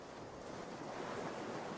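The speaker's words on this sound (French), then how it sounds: "un peu comme ces vagues qui se succèdent les unes aux autres, venant lécher le sable frais bordant la plage" Ocean waves washing onto a sandy beach as a steady, broad surf rush, moderately loud and continuous, with no voices.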